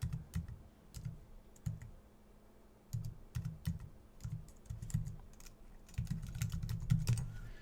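Fingers type a property address on a computer keyboard, a close, quiet run of irregular key clicks in bursts, with a faster flurry toward the end.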